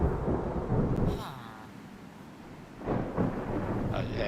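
Thunder rolls through a Minecraft thunderstorm. Low rumbling gives way to a sharper crack partway through, with rain hissing steadily underneath.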